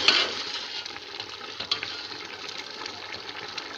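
Rice cooking in water in a pot on a home kitchen stove, giving a steady, close bubbling sizzle with soft stirring scrapes and an occasional brief clink, with no talking.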